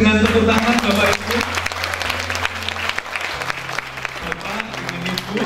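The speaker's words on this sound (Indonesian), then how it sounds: "Boleh disambut dengan tepuk tangan, Bapak Ibu" Audience applause in an academic discussion hall welcoming the speakers, steady dense clapping throughout with some music or tonal sound and a voice underneath.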